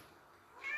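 A house cat gives a single short meow near the end, faint and fairly close, over a quiet room background.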